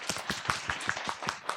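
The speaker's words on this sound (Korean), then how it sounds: "우리 박수 한번 쳐볼까요?" A group of parents at a church kindergarten parenting seminar clap together in a slow, steady rhythm, about eight evenly spaced claps, faint and somewhat distant.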